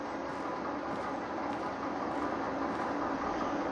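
A train locomotive in the railway simulator game Derail Valley, driving out of the steel mill town, makes a steady, muffled mechanical rumble with a constant drone and no pauses.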